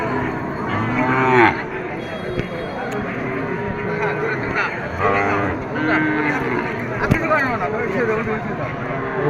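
Cattle moo repeatedly at a busy livestock market, several drawn-out bellows rising over a constant crowd murmur and nearby talking.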